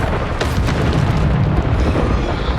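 Booming magical blasts of the Bombarda spell in Hogwarts Legacy, a dense, loud rumble of repeated explosions with no pause.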